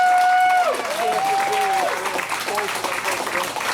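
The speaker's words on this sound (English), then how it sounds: "So, round of applause" Wedding guests break into applause, a dense wash of clapping that starts after a brief tonal sound and continues steadily, with faint voices mixed in.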